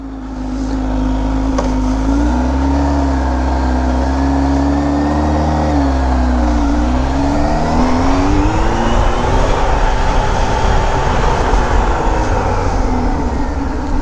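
Supercharged Kawasaki ZH2 motorcycle engine revving loudly up close, a steady roaring drone whose pitch dips and rises, with a fluttering texture and no talking over it.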